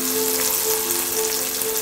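Beef for a South Louisiana daube cooks in a pot with a steady, close crackling sizzle and a faint underlying hum, and no speech is heard.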